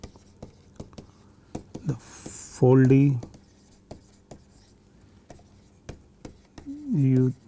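Chalk or a marker taps and scratches in short, irregular strokes while equations are written by hand during a physics lecture on the Dirac equation; a lecturer's voice briefly breaks in twice.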